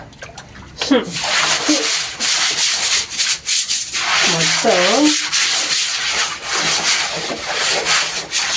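Steady rough scrubbing and rubbing on a dirty hard floor, close by, with some water sounds and occasional talking over it.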